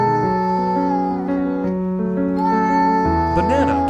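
A cartoonish cat meows in drawn-out wavering tones over a loud, steady musical backing, with a rising, warbling cry near the end.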